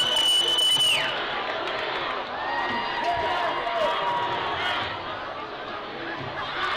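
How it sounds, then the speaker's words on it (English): A football stadium crowd roars and cheers after a winning catch, a broad sustained wash of voices with whoops, fairly loud and steady, with a commentator talking over it. "Everyone is celebrating here. You can probably hear the crowd. They're going crazy."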